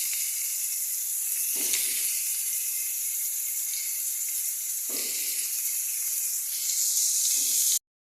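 Green beans and peas sizzle in a hot pan for navaratan korma, a steady bright hiss with a few soft scraping stirs along the way, close up and with no voices.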